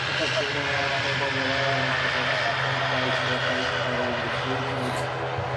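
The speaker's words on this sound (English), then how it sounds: "the ATR 72 cargo craft. This one operated by Aer Lingus Regional" An ATR 72 turboprop cargo aircraft operated by Aer Lingus Regional on the runway at Manchester Airport, giving a loud, steady engine roar with a droning propeller hum that holds evenly from start to finish.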